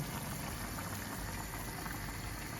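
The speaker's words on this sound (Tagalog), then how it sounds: "Kumukulo na yung karne natin." A pot of pork bubbles at a steady, low boil, a continuous soft churning hiss with no talking.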